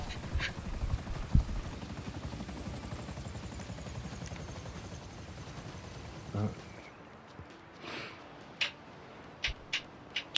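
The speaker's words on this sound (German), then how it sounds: "Denn hier ist schon wieder ein neuer Hubschrauber." Helicopter rotor chop in GTA V Online during the Doomsday Heist, a steady throbbing drone that cuts out partway, followed by scattered clicks and taps.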